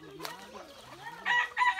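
A rooster crows briefly on a rural farm plot with lemon trees and cassava, a short near cock-a-doodle call rising over someone talking casually in the background.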